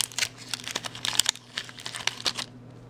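Crinkling wrapper of an Atag mini chocolate bar with halva being torn open, a quick series of close crackles and rustles that fade to quiet at the end.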